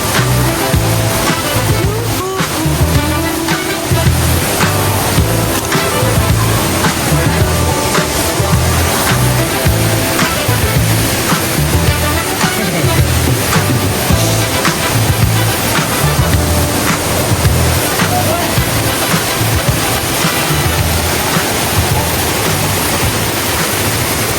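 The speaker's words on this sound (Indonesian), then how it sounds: "ini salah satu air terjun yang paling tinggi katanya di kawasan Taman Nasional Gunung" A tall waterfall, Curug Ciberem in Gunung Gede Pangrango National Park, roars as a loud, steady wash of rushing, crashing water heard up close for the whole stretch.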